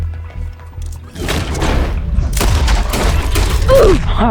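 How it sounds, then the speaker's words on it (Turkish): Gunshots in a Western cowboy video game as a man and his horse are shot, a loud run of heavy booming shots and impacts over a continuous game soundscape. "atını da vurdum. Oha adamı da vurdum."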